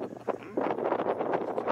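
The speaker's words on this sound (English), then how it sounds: "It is pishing down and pretty damn windy too" Strong wind buffets the microphone in gusty, rushing bursts during heavy rain at Loch Etive, loud and close, with no other clear sounds.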